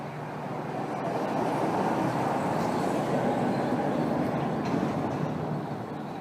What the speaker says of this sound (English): Bloody noisy truck.